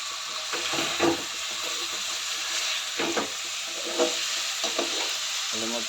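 Mutton curry gravy stirred slowly in a frying pan: a steady sizzle runs throughout, with repeated scraping, clattering spoon strokes at an unhurried rhythm, close by and fairly loud, with no talk.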